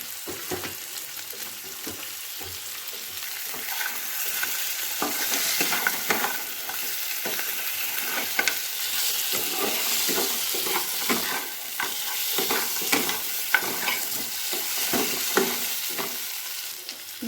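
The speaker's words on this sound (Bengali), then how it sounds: "এবার এর মধ্যে আমি এই কাঁকড়াগুলো দিয়ে দেব, দিয়ে আরও কিছুক্ষণ ভালো করে কষিয়ে নেব।" Crabs being stir-fried in a thick spice masala, with a steady sizzle and frequent scraping strokes of a spatula against the pan, continuous and close throughout.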